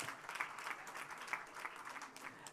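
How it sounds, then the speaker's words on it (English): Audience at a graduation ceremony clapping for award presenters, a steady patter of many hands heard from a distance, fairly soft and continuous for a couple of seconds. "Give our presenters a round of applause."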